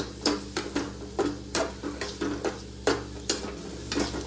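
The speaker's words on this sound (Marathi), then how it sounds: "आता टमाटर टाकून टाकू आपण" Tomatoes frying in a pan for egg bhurji, with a spatula scraping and stirring in a steady rhythm of roughly ten strokes over a soft, continuous sizzle.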